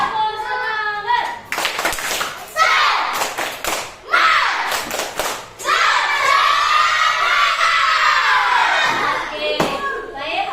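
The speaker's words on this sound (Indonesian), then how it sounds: "Tepuk semangat." Children in a classroom perform a rhythmic spirit clap, with bursts of sharp claps and thumps alternating with loud shouted group chanting, all close and energetic.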